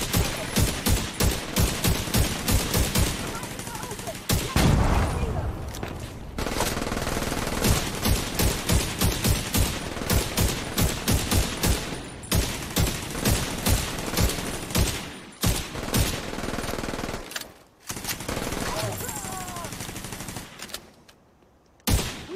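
Automatic gunfire in the PS4 shooter Tom Clancy's The Division 2 rattles in dense, rapid bursts for over twenty seconds, broken only by brief pauses, loud and up front.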